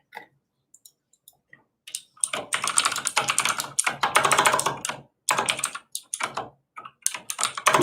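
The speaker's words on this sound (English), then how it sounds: "I cannot type on this keyboard." Fast clattering keystrokes on a computer keyboard during a live coding session, starting as a few scattered taps and building into dense bursts of typing with short pauses, close and clear, no talking.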